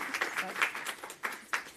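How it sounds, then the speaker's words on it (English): A summit audience in Washington DC gives a short round of applause for two presenters, quiet and somewhat distant, with a few distinct louder claps standing out near the end. "we want to give another round of applause for Molly and Caitlin"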